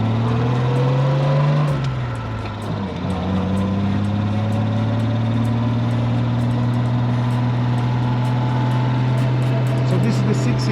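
A 1968 Jaguar XKE 2+2 with its six-cylinder engine, racing pistons and three carburetors drives along, the steady engine drone loud and close with a brief dip in revs early on, then an even cruise.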